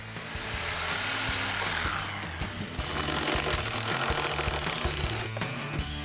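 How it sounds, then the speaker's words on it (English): A power tool cuts through an exhaust pipe welded to the muffler on a Dodge Magnum, giving a loud, steady grinding roar with rhythmic low pulsing that runs the whole stretch without talk. "the other side has to be cut out since it's welded to the muffler"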